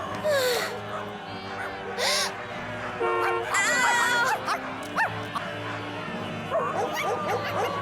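Several dogs bark, yip and whimper close by in overlapping, excited bursts, over a steady background hum.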